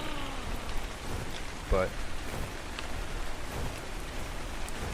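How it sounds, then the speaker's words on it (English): Steady rain patters in the Ark Ascended video game on the Scorched Earth map near a cliff-top base, a dense continuous hiss of drops, with a brief spoken word and a soft thud partway through. "Hopefully it stops raining very quickly here."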